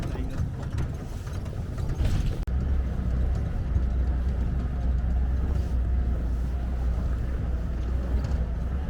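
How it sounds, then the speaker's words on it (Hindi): A vehicle pushes through a river crossing on a rugged, trackless jungle route, with steady low engine rumble and broad rushing water and wind noise filling the whole stretch, loud and continuous. "नदी में गाड़ी चल रही है"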